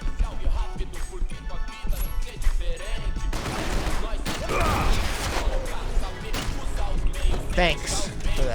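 Gunfire in the Max Payne 3 video game during a favela shootout, bursts of rapid shots and crashes over a dense roar, with a voice talking amid the sustained loud firefight.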